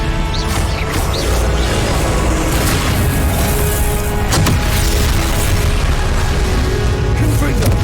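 The Expelliarmus disarming spell from Hogwarts Legacy sounds as several sharp magical bursts and booming impacts over a dense, noisy combat backdrop.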